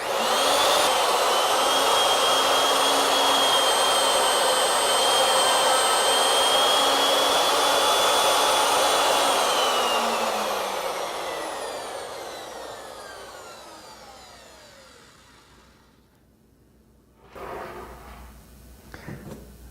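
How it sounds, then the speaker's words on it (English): A router spins a bit through a test cut in wood for a hollow spiral candlestick, giving a loud, steady high whine for about ten seconds before it winds down and fades, followed by a few faint knocks. "Now back the router bit off, and then we'll go ahead and cut a test cut at this end."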